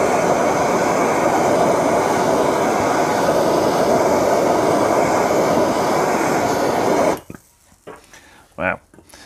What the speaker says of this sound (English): And then we'll bring the blowtorch in.